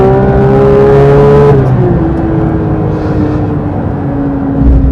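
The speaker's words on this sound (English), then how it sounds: "I almost forget how wonderful naturally aspirated engines are." The naturally aspirated engine of a 2022 Porsche 911 GT3 Touring revs loudly and close, a strong harmonic howl that drops in pitch partway through and then settles into a steady, slightly lower drone, with no talking.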